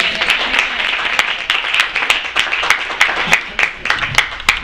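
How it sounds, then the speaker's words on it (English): Steady hand clapping at a brisk, even pace, a few people clapping close by with light applause underneath. "Let me clap for you first."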